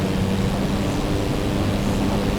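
Steady propeller aircraft engine drone in Microsoft Flight Simulator 2024, a loud, constant broadband roar with a low hum, heard alone without talk.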